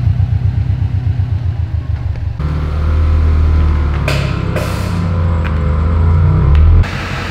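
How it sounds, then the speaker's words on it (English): A black Mitsubishi Evo 8 being driven: steady low engine rumble with pulsing exhaust, a rise in revs partway through, then an abrupt drop near the end; no talking. "I'm gonna go jump in the Evo, the black Evo, and drive that damn thing."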